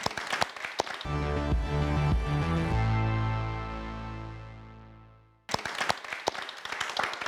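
Audience applause at a youth forum with a regional head of government, heard as brief clapping before and after a loud sustained musical sting.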